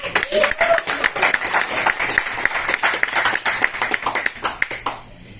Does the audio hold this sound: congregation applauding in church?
yes